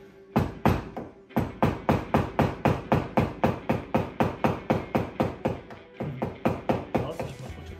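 A hammer pounds on stuck clutch plates from a KTM 450 EXC-F motorcycle, about twenty sharp metallic blows in a steady, even rhythm, loud and close with a short pause before the last few strikes.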